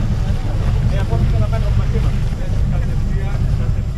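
A coast guard rescue boat runs at sea off the island of Gavdos, its engine a steady low rumble with wind and water noise throughout, loud and continuous.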